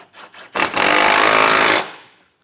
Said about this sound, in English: we'll start getting these tightened down with that 17mm socket